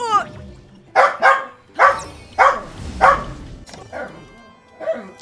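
A dog barks in the background behind a gamer playing Tears of the Kingdom, a run of five or six sharp, fairly close barks in quick succession, followed by softer, whimpering yips.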